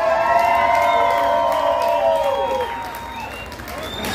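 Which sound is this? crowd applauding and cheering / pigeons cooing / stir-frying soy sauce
crowd applauding and cheering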